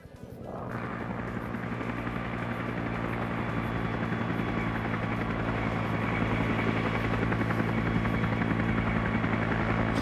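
A helicopter in a military video game keeps up a steady, loud, thrumming rotor roar for the full ten seconds, holding a constant drone without any talk over it.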